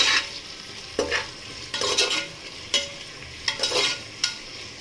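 Onions fry with salt in a pan for vegetable pulao, a soft sizzle punctuated by about eight close spoon stirs and scrapes at an uneven rhythm.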